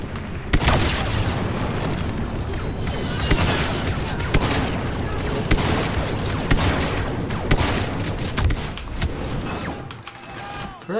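Blasters and explosions from a Star Wars Battlefront 2 match fire continuously in dense, overlapping volleys with sharp cracks and booms. The noise is loud and steady throughout, with scattered bursts of high laser-like zips.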